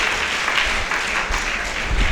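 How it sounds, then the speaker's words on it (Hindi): An audience at a weekly religious discussion gathering claps in welcome for a prize winner, a dense continuous patter of many hands, steady and fairly loud throughout, with no voices over it. "एक बार जोरदार तालियां बजाकर इनका स्वागत करें।"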